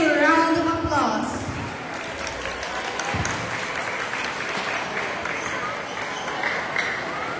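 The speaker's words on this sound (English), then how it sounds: "Let's give them a big round of applause." An audience at a school birthday celebration claps after a vibrant community dance performance, loud at first as a voice fades out, then a sustained, even round of applause over several seconds.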